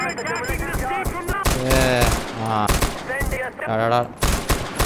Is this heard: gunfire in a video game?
yes